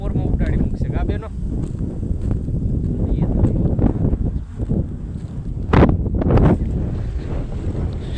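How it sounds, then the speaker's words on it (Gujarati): Strong wind gusts buffet the microphone over an open farm field planted with fenugreek, a steady loud rumble with sharper bursts near the end and no clear talk over it. "પવન એટલો આવે."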